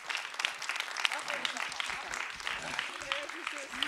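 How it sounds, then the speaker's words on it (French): An audience applauds the conductor at a contemporary music concert, with scattered, fairly light clapping and a voice speaking over it. "On peut applaudir."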